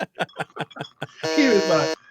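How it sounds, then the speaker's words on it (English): A game-show style buzzer gets one long harsh electronic blast at close range, following a rapid string of short speech bursts from people talking. "I will spam this buzzer."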